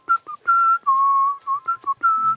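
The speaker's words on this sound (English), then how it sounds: "When he goes home, we hear him whistling a tune." A cartoon dog whistles a bright, bouncy tune alone, with a string of clear sustained and short notes rising and falling over a few seconds, close and fairly loud, with a brief low tone at the end.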